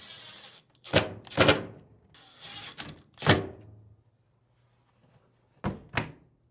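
Two screws reinstalled on a Samsung dryer door during a temperature sensor repair, heard as several sharp close clunks and clicks in short bursts, separated by quiet gaps.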